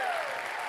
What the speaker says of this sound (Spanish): Si tú le vas a dar un aplauso a Dios, dáselo bien.